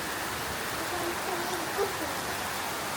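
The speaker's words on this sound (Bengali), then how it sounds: "বৃষ্টি চলে আসছে।" Rain falls steadily as a dense, even hiss in a light-wind, bath-worthy shower, with no clear speech over it.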